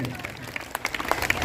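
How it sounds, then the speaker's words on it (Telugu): A church congregation at a holy Mass for a feast day at RCM Church, Proddatur, claps for the priests. The applause is brief and scattered, with mid-distance clapping under a speaking voice. "గట్టిగా చప్పట్లు కొట్టి మరి ఫాదర్ల కోసం చప్పట్లు"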